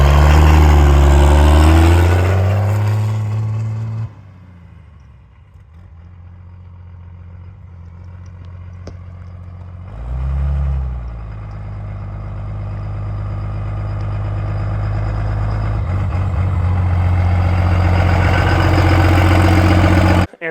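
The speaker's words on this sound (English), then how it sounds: "I wanted him to drive the truck up and down the road" A first-generation race truck's engine drones as it drives along a road, loud and close at first, then dropping away before gradually swelling back as it returns.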